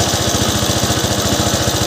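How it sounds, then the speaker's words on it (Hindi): A Suzuki Access 125 scooter engine held at full throttle, a loud, steady, rapid buzzing drone with an even pulsing rhythm, close up and without talk. "इंजन पूरा फुल फास्ट किया हूँ, देखिए पकड़ा हूँ मैं, और इंजन का जो साउंड होता है वो चेंज हुआ है।"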